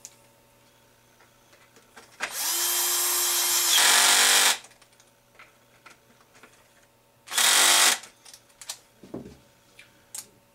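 A power tool drives screws into the top front plate of a Baja 5T RC car, with two short whirring bursts separated by quiet handling noises and light clicks.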